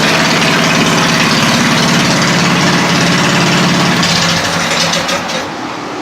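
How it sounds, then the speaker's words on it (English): Small engine on a YERFDOG 3202 go-kart idling steadily and loudly up close, a continuous rough mechanical drone that eases slightly near the end. "with the engine running"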